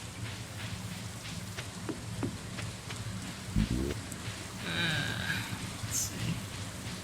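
Steady rain patters all around in the video game Stardew Valley, with a few faint knocks and splashes mixed into the hiss of falling drops.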